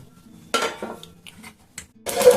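Fried five-spice seeds are tipped from a pan onto a plate with a few quick metallic clinks and scrapes, two sharper bursts standing out in a brief, close, otherwise quiet moment.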